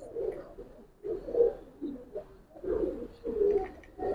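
Giribaz pigeons give repeated low throaty coos in soft rolling bursts about every second, close by and fairly quiet.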